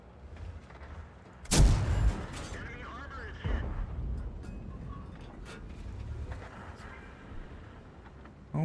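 KV-1 tank cannon fire in a tank video game: one loud blast with a rumbling tail, then a weaker shot and scattered distant impacts, under intermittent game sounds.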